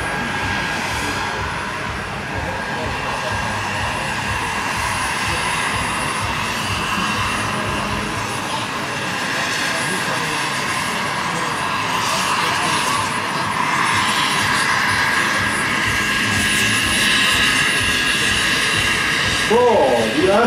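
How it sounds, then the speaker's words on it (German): A JetCat turbine-powered model helicopter flies at full throttle at an outdoor demonstration, its continuous high turbine whine and rotor roar holding steady while an announcer talks over it on a public address. "Aber genauso wie der Heiner jetzt mit dem Vollgas fliegt"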